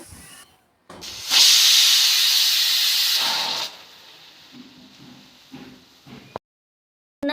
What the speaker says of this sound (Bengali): এদিকে প্রেসার কুকারে সিটি দিতেও শুরু করেছে